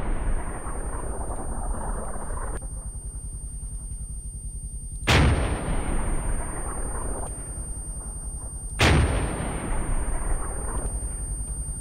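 An artillery gun fires in the video game Arma 3: two loud, deep booms about four seconds apart, each followed by a long fading rumble over a constant low engine drone.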